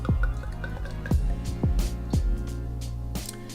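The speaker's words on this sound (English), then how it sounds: "pouring this beer into my recently acquired Cloudwater IPA glass" Beer poured into a Cloudwater IPA glass, a hoppy wheat from Little Wolf, with a run of close liquid drips and gurgles as it fills, plus faint background tones and no speech.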